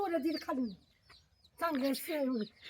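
A hen clucks close by in a rural yard, giving a few short rising-and-falling cluck bursts with a brief quiet pause between them.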